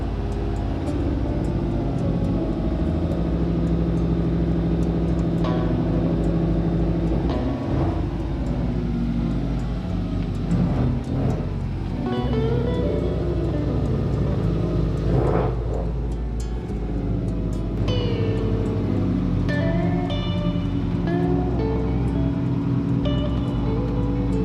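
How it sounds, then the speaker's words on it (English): A car with freshly bled brakes pulls out into a driveway and stops, a continuous low engine rumble with shifting revs and a few clunks and scrapes across the stretch, fairly close and with no talk. "as you can see, the car obviously stopped"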